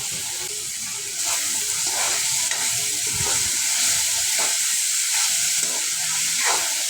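Toor dal and onion sautéing in a pan for a Marathi mixed vegetable curry with cluster beans, capsicum and brinjal, giving a steady close sizzle and hiss with occasional stirring scrapes and no talk.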